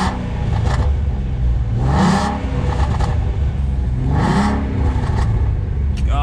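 A 2017 Ford Mustang V6 Fastback engine revs loudly at close range, two rising-and-falling revs over a constant idle rumble, with no voices.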